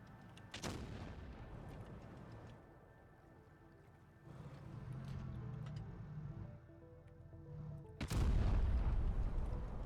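A tank cannon fires two heavy booms several seconds apart in the video game World of Tanks Blitz, with engine rumble and scattered distant blasts in between.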